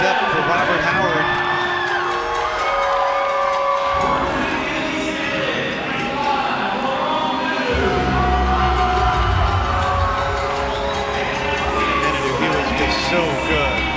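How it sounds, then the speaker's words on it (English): A local crowd cheers and whoops at a sporting event, a loud sustained roar of voices that swells and falls across the whole stretch, with shouts rising above the din. "The local crowd trying to fire things up for Robert Howard"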